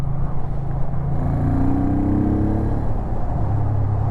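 A Honda Bros (Hawk GT) motorcycle engine revving nearby, a loud continuous drone whose pitch climbs and sweeps up then settles back, steady and close with no voices.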